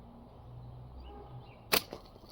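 A homemade tree-fork slingshot fires a small 1/4 inch ball: one sharp, loud snap of the band, then a fainter second knock a moment later, over a quiet outdoor background.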